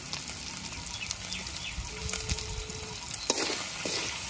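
Turmeric, coriander and chili powders sizzle steadily in hot oil for a chicken singara filling, a close, continuous frying hiss with occasional stirring scrapes.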